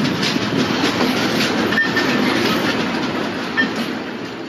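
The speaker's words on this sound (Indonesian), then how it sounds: "Kita bisa ngerasain naik kereta yang gerbongnya masih kayu kayak gini" Century-old tourist train with wooden carriages running from Ambarawa toward Tuntang, a steady loud rumble of wheels and carriage rattle throughout, with faint clickety-clack and brief metallic squeals.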